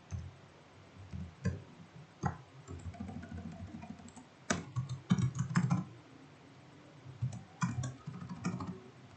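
Clicks of a computer keyboard come in short irregular bursts with pauses, as someone types a command for a web framework seeder and then strikes Enter with a louder keystroke, close and clear with no talking.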